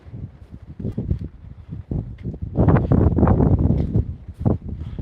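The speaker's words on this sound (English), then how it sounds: "It's getting quite windy out here." Loud, gusty wind buffets the microphone on a dark late-night village walk, with a rough low rumble that swells and eases, growing stronger and steadier in the second half.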